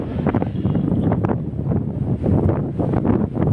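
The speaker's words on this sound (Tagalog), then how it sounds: "Ang sarap na hangin, Lord." Strong wind buffets and rushes past steadily across Taoyuan plaza in Taiwan, with gusty low roaring and flutter, loud and close, no talking.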